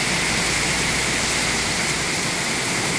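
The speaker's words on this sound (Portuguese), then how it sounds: "É muita chuva." Heavy rain pours at night in Blumenau, Santa Catarina, Brazil, making a steady, dense hiss without pause. No one speaks over the rain.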